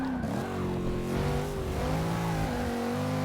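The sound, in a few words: Dodge Hellcat engine revving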